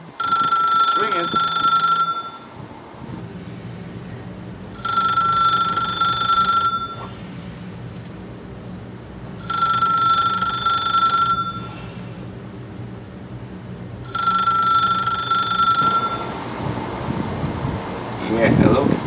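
Telephone ringing in four long electronic bursts separated by pauses, loud and close, with low rumbling background in between.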